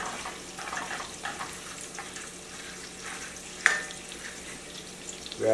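Butter sizzling in a hot pan while deglazing for lemon chicken, a moderate crackling fry with stirring scrapes and one sharp clink partway through.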